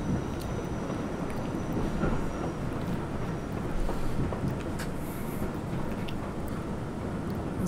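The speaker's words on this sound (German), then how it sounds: "Jetzt muss ich ein bisschen wieder hochschalten, damit er nicht ganz stehen bleibt, der Zug." Subway train running through snow in the video game World of Subways 4, a dense, steady rumble of wheels and motor noise with faint clicks, continuous throughout and with no voices over it.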